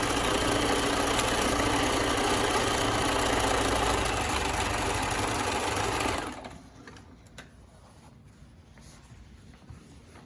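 A sewing machine stitches down the outside seam of a pair of trousers, running in a fast, steady whir for about six seconds before stopping, leaving quiet room sound.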